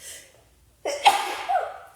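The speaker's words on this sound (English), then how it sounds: "I'm going to sneeze." A woman indoors gives a single sharp, close sneeze after a short quiet pause, followed by a trailing breathy exhale.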